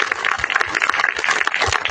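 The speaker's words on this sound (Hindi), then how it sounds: "ताली बजाकर परमेश्वर की महिमा करें।" A church congregation claps together during worship, a dense and steady wash of applause that runs loud and unbroken throughout, with no voice standing out above it.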